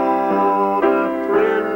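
Piano played by ear, octave chords in C with the left hand chopping, sustained ringing harmonies with a few fresh chord strikes, close and clear with no voices.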